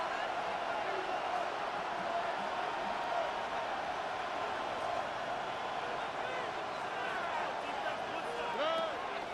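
Stadium crowd in Madden NFL 26 roars steadily through the whole stretch before a third and long late in the fourth quarter, a dense continuous wash of cheering with commentary talk over it.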